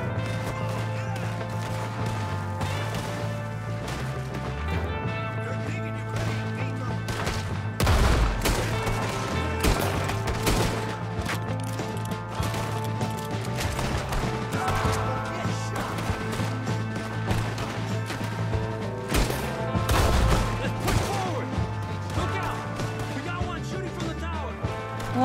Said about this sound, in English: who's shooting me from over there?